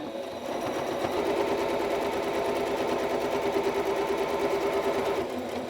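A sewing machine stitches a cushion seam held against the guide for an even quarter-inch allowance, a steady close-up motor whir running without pause for several seconds.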